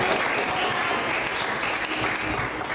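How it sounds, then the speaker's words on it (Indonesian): Students applauding in a classroom, a dense continuous burst of clapping that stays loud and even for the short stretch. "Oke, tepuk tangan."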